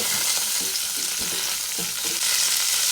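Chorizo and bell pepper sizzling loudly in a hot pan, a dense continuous fry with faint scraping as the pieces are turned.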